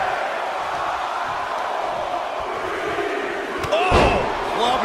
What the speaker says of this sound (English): Oh! Clubbing blow.